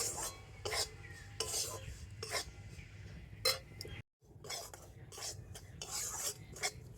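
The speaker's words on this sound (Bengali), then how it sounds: "তবে উনুনের জালটা একটু হালকা দিয়ে আর সুজি আর ময়দাটা একটু ভালো করে ভেজে নিতে হবে।" Semolina and flour being stirred and dry-roasted in a pan over a low flame, giving repeated scraping and rasping strokes of a spoon against metal, close and fairly quiet, with one brief gap of silence partway through.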